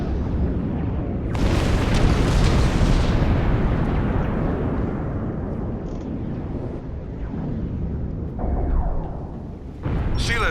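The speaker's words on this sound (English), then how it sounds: "Order the bombardment. Fire photon torpedoes." Photon torpedoes firing and exploding during a space battle in the Star Trek Online game: loud, dense booming blasts with bursts of crackling debris, a sustained rumbling barrage that swells and drops, with a sharp new burst at the end.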